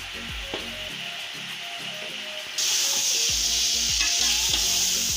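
Chicken pieces with chopped tomatoes and finely chopped green chilies sizzle and fry in a pan, a steady loud hiss that jumps brighter halfway through, with a few stirring scrapes and no talking.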